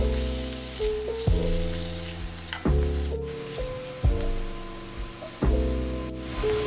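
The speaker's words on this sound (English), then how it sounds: "Now I'm going to add the bacon to a skillet and let it cook, stirring occasionally for about 5 minutes, just till it starts getting brown" Bacon cooking in a skillet, a steady bright sizzle broken by occasional scraping stirs with a spoon, close and continuous with no voices.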